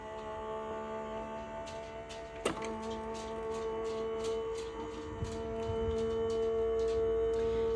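A Sizzix Big Shot Switch electric die-cutting machine runs quietly as a steady low hum with faint ticking, heard up close indoors, with a brief thump near the start.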